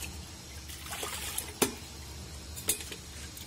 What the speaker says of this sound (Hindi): सीधे छान लिया इसको